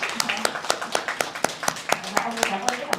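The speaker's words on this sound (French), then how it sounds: "juste avant de m'applaudir moi, on va aussi applaudir Madame Min" Rhythmic hand clapping from a small group at a scabies seminar, steady and close, with a voice talking faintly underneath.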